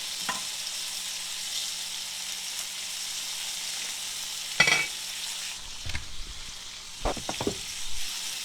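Steady sizzling of food frying in a pan, a constant hiss with a few louder crackles and clinks toward the end; no talking.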